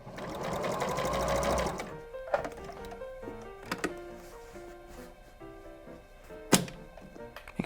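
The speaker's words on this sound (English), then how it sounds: "Sew to the top of the pocket and reverse." A sewing machine stitching an apron pocket runs in a steady whirring burst for about two seconds, then stops, followed by scattered clicks and thunks of the needle and presser foot being adjusted.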